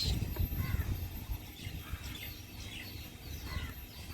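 Birds chirp and call outdoors in a cool breeze, their faint, scattered tweets sounding somewhat distant over a low rumble of wind.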